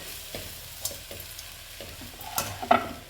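A spoon stirs and scrapes through uggani in a frying pan, a few soft, separate strokes over a faint sizzle and growing a little busier near the end.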